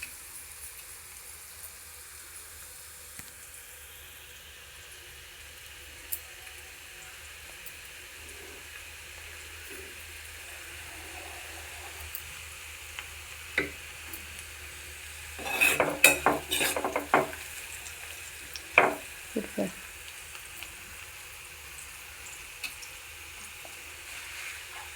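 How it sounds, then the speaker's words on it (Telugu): Onions fry quietly in a pan as a low steady sizzle, with a burst of stirring and spoon scrapes in the middle and a few later clinks, fairly faint and close, with no voices. "ఉల్లిపాయలు వేగుతున్నాయండి."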